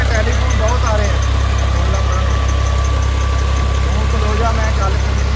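A tractor engine drives a borewell pump outdoors, its loud steady low rumble running without a break throughout, with people talking faintly beneath it.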